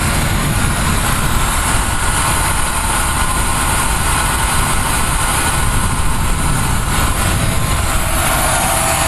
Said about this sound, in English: Listen to this beautiful quiet engine.